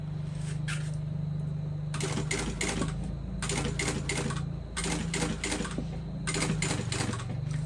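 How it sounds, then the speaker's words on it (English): A sewing machine top stitching black-on-black fabric on a bowler bag runs in several bursts of rapid, rhythmic stitching, with short pauses between runs and a steady low motor hum underneath, close and clear, no talking. "I am pressing down as I'm sewing that up"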